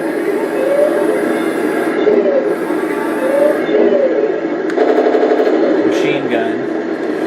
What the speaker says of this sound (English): Machine gun. And then the main gun with recoil.